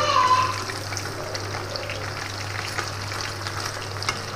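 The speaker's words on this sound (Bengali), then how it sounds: "এইভাবে উল্টে পাল্টে চিকেনগুলোকে আমি ফ্রাই করে নেবো, একটু লাল লাল হলে নামিয়ে ফেলবো।" Chicken pieces fry in a pan for chilli chicken, giving a close, continuous oily sizzle with a steady crackling hiss and faint stirring throughout, with no talk over it.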